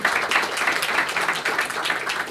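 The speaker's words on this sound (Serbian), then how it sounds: "To je bio za Nemanja aplauz." Audience applause after a speaker is introduced at a talk on sports supplements, a dense, even wash of many hands clapping throughout, fairly loud and without pause.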